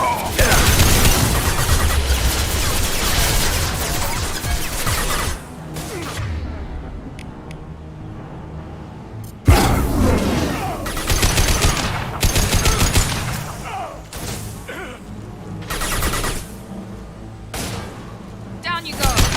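Rapid gunfire in the shooter Mass Effect 2 Legendary Edition, with loud, dense bursts and volleys, heavy booms and a sharp crack midway, continuing in waves with brief lulls and occasional whooshes, and voices speaking between the shots.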